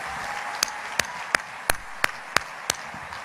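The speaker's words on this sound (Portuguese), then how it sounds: "Aplauda o Senhor, glorifique, exalte." Sharp single handclaps beat out a quick, even rhythm in a church service, about seven claps over a quiet background.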